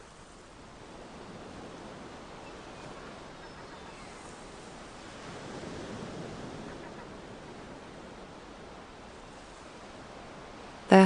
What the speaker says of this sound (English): The sound of the pebbles washing over each other is a gentle, shushing sound